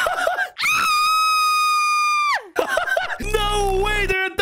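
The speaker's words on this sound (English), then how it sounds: "Oh, and they're screaming so loud." Minecraft villagers screaming loudly after their roof collapses, with two long shrill wails separated by short gaps, close and alone.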